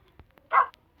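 A single short dog bark in Minecraft, fairly loud and close, with faint scattered noises before and after.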